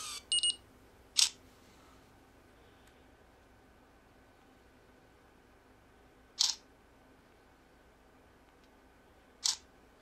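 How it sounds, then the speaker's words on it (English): An HTC Rezound phone camera makes an artificial whirring autofocus sound followed by short sharp beeps each time focus locks, three separate bursts spaced several seconds apart in otherwise quiet surroundings. "you can hear that artificial focusing sound and beep when you achieve focus"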